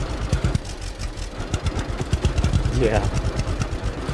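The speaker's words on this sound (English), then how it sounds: "It's totally an old tractor." An old tractor in the farming game Farmer's Dynasty idles with a rough, knocking putter under steady talk.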